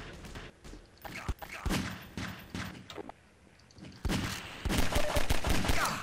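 Pistol gunfire in Half-Life 2 comes as a rapid series of sharp shots, growing denser and louder toward the end, with game noise and occasional speech in between.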